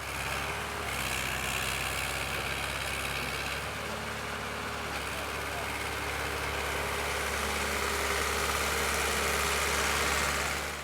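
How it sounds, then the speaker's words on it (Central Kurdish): A tractor engine carrying fishermen along a muddy road from a lake runs as a steady, low, droning rumble with a mid-pitched mechanical hum, fairly faint and unbroken throughout, with no talking. "بەشێکیش لە ماسیگرەکان بە تراکتۆرەکەی بە ڕێگا قوڕەکەدا دەباتەوە ماڵەوە"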